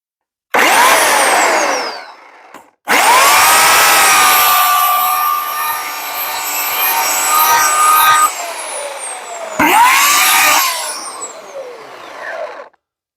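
Oregon CS1500 18-inch electric chainsaw cutting through a tree, a loud sustained whine in long bursts with brief pauses between cuts, close to the microphone.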